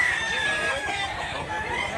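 Roosters at the Mantalungon chicken market in Barili, Cebu, crowing and clucking up close amid a dense background of overlapping fowl calls, continuous and fairly loud.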